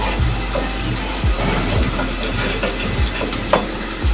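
Garlic and vegetables fry in a pan with a dense, loud, continuous sizzle like rain, broken by a few low thumps, and no talking.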